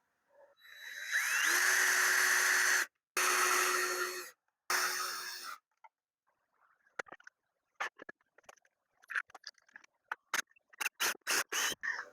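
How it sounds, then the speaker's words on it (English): A power drill drives screws into glued wood in three loud, whining bursts that speed up and then stop, followed by scattered clicks, taps and light handling noises. "Then we'll sink some screws and call it done."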